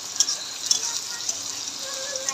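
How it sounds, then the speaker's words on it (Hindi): Onions with salt sizzle in a pan as a spoon stirs through them, a short close burst of steady frying with a few light scraping ticks. "नमक का डाल के थोड़ा चलाना है प्याज जब तक गल ना जाए"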